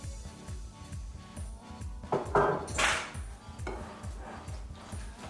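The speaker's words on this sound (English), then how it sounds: "Just kind of stir it in." Whisked eggs are stirred into a batter mix in a bowl, making a steady, rhythmic scraping and swishing close by, with a louder clatter midway. There is no talking.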